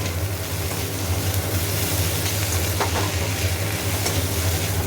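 Onion with ginger-garlic paste fries in a pan with salt, a steady close hiss and sizzle over a low rumbling hum, with faint scraping from stirring.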